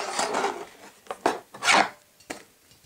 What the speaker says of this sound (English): you want to just carefully take the grill off.